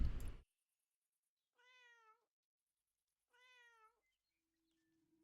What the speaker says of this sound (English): Besides, you can just pet the cat, which you should do anyway.